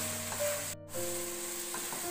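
Mixed vegetables stirred in a pan for veg biryani, giving a soft, faint sizzle and scraping under a steady tonal hum, with a brief dropout partway through.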